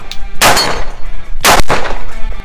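An AR15 rifle fires two loud, close shots about a second apart on a shooting range, each a sharp blast with a short ringing tail.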